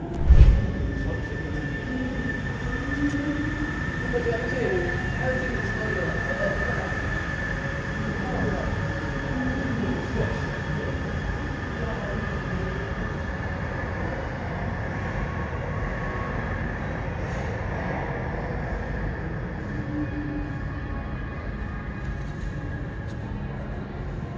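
A Siemens VAL 208 metro train rumbles steadily at the Borderouge terminus in Toulouse, with a constant tone heard inside the car and faint voices in the background.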